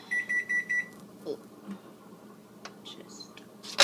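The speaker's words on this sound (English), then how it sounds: "once your timer goes off, you're going to want to go ahead and flip it" A kitchen timer going off while arepas cook, four quick electronic beeps in a row followed by quieter kitchen clatter and faint clicks.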